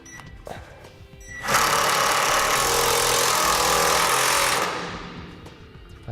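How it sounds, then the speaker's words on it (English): A screw gun drives a self-tapping screw into a pre-drilled hole in a trailer frame, giving one loud, close, sustained whirring burst of about three seconds that spins up and winds down, with faint handling noise before it. "We'll take our self-tapping screw, place it on our screw gun."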